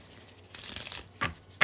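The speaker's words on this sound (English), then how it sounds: "we're gonna do one more shuffle and a cut" Tarot cards are shuffled by hand: soft papery riffling and rustling, then two quick, louder flicks of the deck near the end, close and fairly quiet with no talking.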